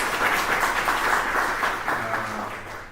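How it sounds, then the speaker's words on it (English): Participants at a spatial-technology talk session clap in a brief round of applause, a moderately loud patter that fades slightly toward the end. "A big round of applause for both of us."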